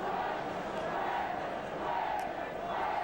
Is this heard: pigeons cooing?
no